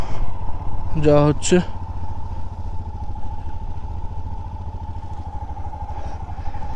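A motorcycle engine drones steadily on a mountain ride between Sandakphu and Mabu, a low constant hum running throughout with someone speaking briefly over it near the start.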